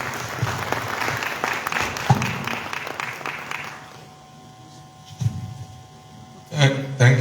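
Clapping from attendees at a multi-stakeholder consultation held by a Ministry of Public Administration and Political Affairs rises briefly, then thins and dies away after about four seconds, leaving a quieter room with a voice speaking near the end.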